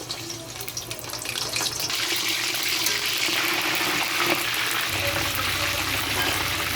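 Chinese-style chicken fries in hot cooking oil, a dense, even sizzling hiss that swells slightly and continues steadily throughout, with no voices.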